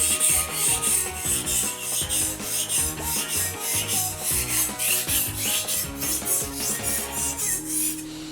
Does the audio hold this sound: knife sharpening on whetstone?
yes